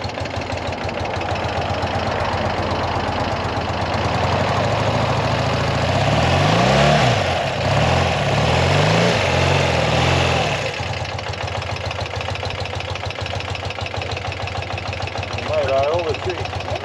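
A carbureted 1990s Harley-Davidson motorcycle engine idles while warming up, a steady close rumble that swells into a few throttle blips midway, with people talking over it.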